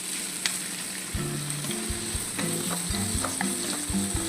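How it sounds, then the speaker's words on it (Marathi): Onion and capsicum frying in a pan for malai paneer, a close steady sizzle broken by repeated knocks and scrapes of stirring. "आता आपण कांदा घालू, शिमला मिरची पण घालू. चांगलं असं थोडं अर्ध कच्चं पक्का करायचं,"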